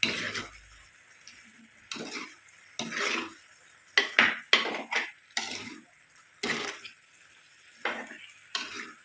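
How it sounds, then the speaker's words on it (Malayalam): A spoon stirs chicken curry with ash gourd, Palakkad style, in a cooking pot, giving a series of short scraping and clinking strokes at an irregular rhythm, close and fairly quiet, with brief pauses between them. "നല്ലതുപോലെ ഇളക്കി കൊടുക്കാം ഒരു അഞ്ച് മിനിറ്റ് നമുക്കിതൊന്ന് ഇളക്കി യോജിപ്പിക്കാം"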